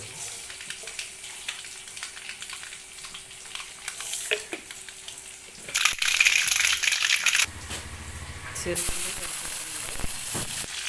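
Mustard seeds sputter in hot oil with sharp popping crackles. A quieter sizzle breaks into loud, dense bursts partway through and keeps crackling to the end.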